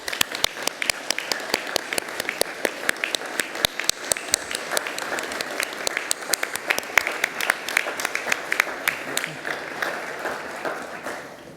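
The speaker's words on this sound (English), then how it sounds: "Please join me in applauding the wonderful achievements of our graduates." An audience at a university graduation ceremony in Ourimbah, Australia applauds the graduates with sustained crowded clapping, many sharp individual claps over a steady wash that tapers slightly near the end.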